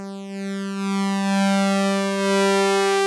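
A sustained Repro-5 synthesizer tone with rich, bright harmonics holds steadily, swelling slightly in loudness as it rings on.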